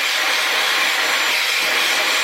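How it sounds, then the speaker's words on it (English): A handheld blow dryer drying thin, dry, frizzy hair roars as a loud, steady, broadband airflow hiss without a break, close up and with no talking. "put the blow dryer underneath"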